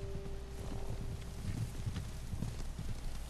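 Horse hooves clip-clopping in Ghost of Tsushima, a steady run of hoofbeats from riders approaching through grassland, moderately loud with a windy outdoor background and no talking.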